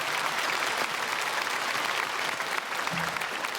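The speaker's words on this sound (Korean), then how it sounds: "박수로 축복하겠습니다" Steady applause from a church congregation after a choir performance, dense and continuous clapping filling the whole stretch without talk.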